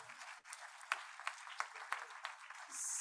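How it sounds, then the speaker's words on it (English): Audience at a celebration of African and Afrodescendant culture claps for cultural leaders, a faint, distant patter of applause with a few sharper claps standing out. "Please give them a round of applause."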